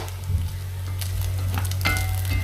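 Bacon frying in a pan gives a steady, close sizzle over a constant low hum, with a couple of faint clinks of a utensil near the end and no talking.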